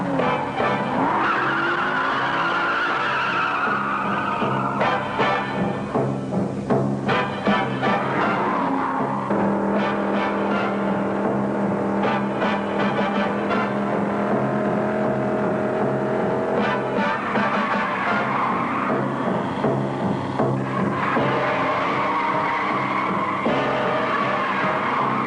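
A 1968 Jaguar XKE 4.2-liter coupe is driven hard on a race track, its engine roaring steadily throughout with repeated loud tire squeals and skids as it corners, close and dominant with no talking.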